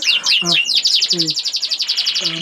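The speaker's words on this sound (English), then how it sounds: "canary singing" Pet canaries sing in a close, continuous run of bright rapid chirps and trills, with a few lower whistled notes mixed in, loud and clear with no one talking.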